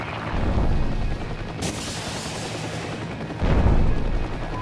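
A loud whooshing launch from an attack helicopter in Heliborne, with two booming, rushing bursts over a steady rotor and engine rumble.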